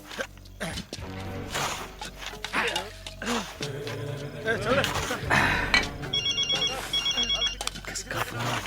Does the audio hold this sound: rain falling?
no